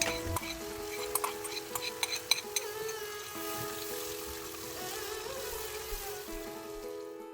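Spices cooking down with sour yogurt in a pan for tehari, a steady soft sizzle with occasional utensil scrapes and clinks, close and continuous without talk.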